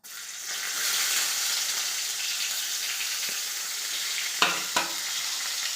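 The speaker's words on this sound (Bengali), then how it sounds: "এবার দেবো পেঁয়াজ" Onion hits hot oil already seasoned with bay leaf and cardamom, launching a loud steady sizzle that carries throughout, broken near the end by two sharp scraping knocks of a spatula stirring the pan.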